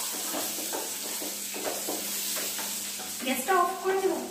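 Potatoes fry and are stirred in a pan, a steady close sizzle broken by regular scraping strokes, with voices talking over the cooking near the end.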